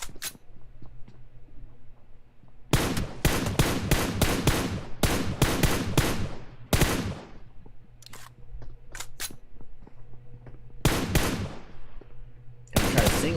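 Sharp, loud gunshots from PUBG Mobile play in rapid bursts and single taps, with clusters of fast firing separated by short quiet gaps during a competitive match scrim.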